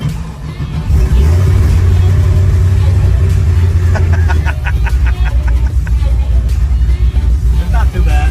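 Chevrolet Nova with a newly upgraded suspension, its engine starting up then idling with a deep, loud rumble and a few sharp revs near the end, close to the listener.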